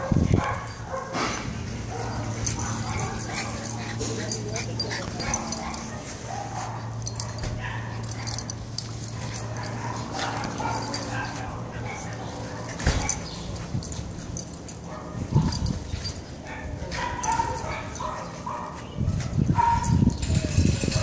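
A small dog whimpering and yipping up close, with high whines and short sharp yips, and some soft talk in the background.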